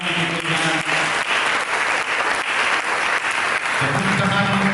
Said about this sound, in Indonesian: Bertepuk tangan untuk Tuhan.